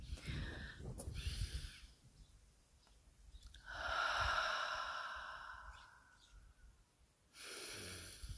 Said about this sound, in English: Couple more deep breaths. I'll do it with you.